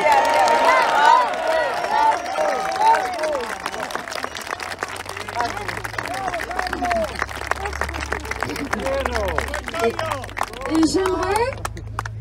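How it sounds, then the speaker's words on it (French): Loud crowd applause at a conference event in Nancy fills the room as a thick, sustained wash of claps with scattered cheers. A voice and some murmuring come through early on, and a low hum sits underneath toward the end. "J'aimerais qu'on l'applaudisse bien fort."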